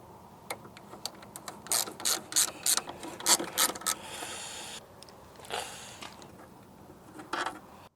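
A hand ratchet drives screws into an LED tail light on a Jeep JK, giving quick bursts of close, crisp clicking in several short runs separated by brief pauses.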